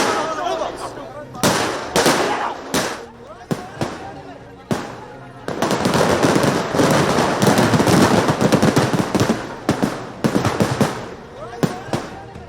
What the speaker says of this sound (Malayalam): ഉഗ്രശബ്ദത്തോടെ നിരവധി തവണ പൊട്ടിത്തെറികൾ ഉണ്ടായത്